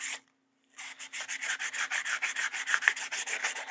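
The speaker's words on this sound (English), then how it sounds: "we're gonna wet sand the whole thing" Wet sanding the metal case of a Chicago drill during restoration: steady back-and-forth rubbing strokes in a quick regular rhythm, close and fairly loud, after a brief pause at the start.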